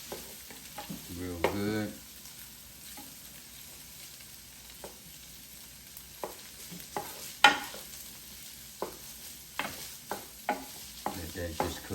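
Spam fried rice is stirred and sizzles in a Power XL cooker, with soft scraping strokes and a few sharper clanks of the utensil over a quiet frying hiss, while someone speaks briefly.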